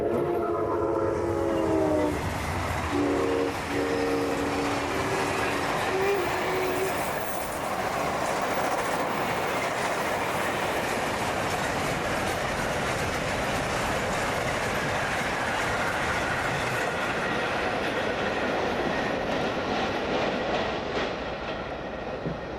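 Baldwin-built 1906 steam locomotive No. 475 hauls a Strasburg Rail Road passenger train, a loud continuous rumble and clatter of the cars with a whistle sounding near the start, and faint voices underneath.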